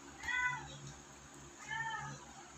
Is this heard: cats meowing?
yes